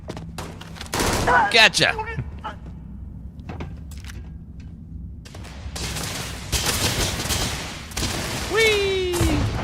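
Rapid bursts of gunfire from a firefight in the game Starfield, sharp clustered shots near the start and a heavier volley later, with a voice calling out between them.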